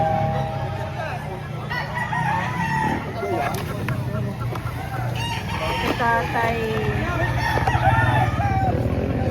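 Roosters crow repeatedly amid clucking chickens at a busy chicken market in Lipa, Batangas, with several birds overlapping near and far while people talk in the background.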